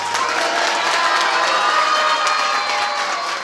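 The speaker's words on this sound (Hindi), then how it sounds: "जैसे बैठ रहे हैं चिल्लाकर ताली बजाएंगे" An audience shouting and clapping at a talk, a dense continuous roar of cheers, cries and applause, loud and sustained throughout.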